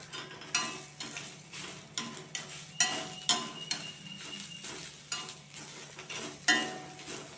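A spoon stirs sautéed lemon leaves, curry leaves and coconut in a pan, giving a run of scraping strokes with soft sizzling underneath, close and fairly quiet, each stroke rising and fading.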